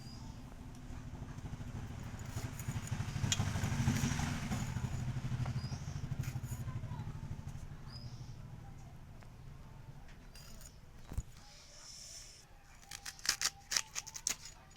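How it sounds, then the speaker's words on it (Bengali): Flat beans are cut finely on a board, with faint cutting sounds under a low background drone and a quick run of crisp, close chops near the end. "এই যে আমি সিমগুলো কুচিয়ে নিচ্ছি।"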